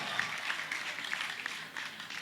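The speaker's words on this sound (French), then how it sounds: "j'aimerais que vous fassiez un maximum d'applaudissements pour Joyce" Quiet applause from an audience for a singer at a gospel music competition, a soft, steady wash of clapping heard from a distance with a few brief vocal exclamations mixed in.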